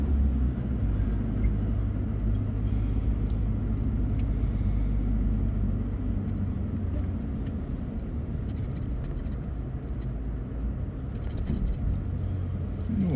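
A car rolls through a small Albanian town with a steady, low engine and road rumble that holds evenly throughout, faint higher noises flickering above the continuous drone.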